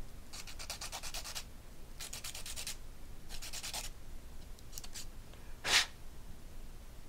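A blending stump tip is rubbed on a sandpaper block to clean it, giving three bursts of dry, rhythmic scratching followed by a short sharp rasp, close and fairly quiet with no talking.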